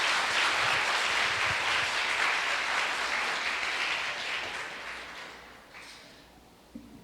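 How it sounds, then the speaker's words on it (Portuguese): Church congregation at a Sunday service applauding the worship singers: a dense, sustained wash of clapping from many hands that starts loud and slowly tapers off over several seconds, with no talking on top. "Vamos aplaudir a vida deles"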